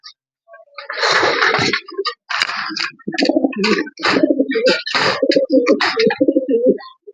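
Racing pigeons coo and call close by in a loft, a rapid run of throaty, burbling coos that continues almost without a break, with a few sharp flutters mixed in.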